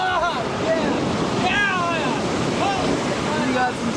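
Huge ocean waves break along a coast, a loud continuous roar of surf mixed with wind buffeting the microphone, with faint voices underneath.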